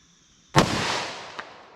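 A single close, loud .357 SIG gunshot is fired into four layers of cotton T-shirt fabric, clear ballistic gel and quarter-inch MDF. The sharp crack has a decaying echo and a faint second thump just after.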